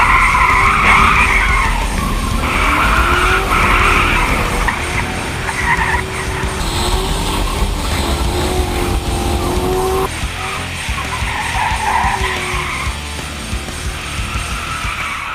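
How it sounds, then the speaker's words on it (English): A Chevy Caprice skids and spins out on a wet autocross course, its tires squealing loudly and continuously over a roaring engine, the pitch wavering as the car slides around. "All because I want to watch David spin out the Caprice a few more times."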